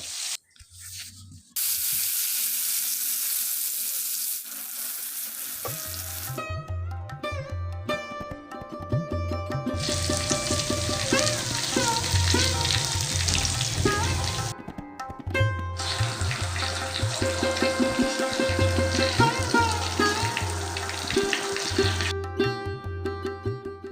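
Slices of eggplant go into hot mustard oil one by one, setting off a loud, steady hiss that swells in long stretches with brief breaks between them.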